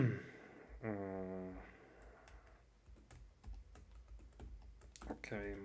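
Fingers tapping on a computer keyboard, a quick irregular run of close, crisp keystrokes following a short spoken phrase, with more talk returning at the end.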